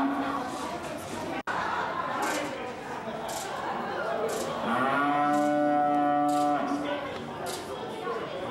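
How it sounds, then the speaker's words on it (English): Young calves in a cattle barn at a county fair give a long, drawn-out moo close by, amid a steady murmur of crowd chatter and barn noise. "These are young calves right here in the cattle barn."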